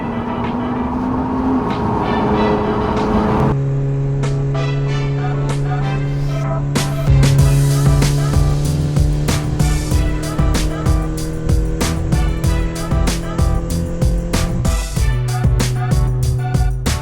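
BMW cars racing along country roads, engines revving loudly and shifting up through the gears with rising and falling pitch, close and continuous, with rattling and road noise throughout.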